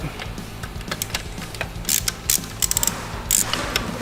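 Hand ratchet loosening a battery tray bolt on a Harley-Davidson Sportster motorcycle being converted to a hardtail, with a series of close, quick clicking pawl bursts and metallic ticks over a low steady background hum.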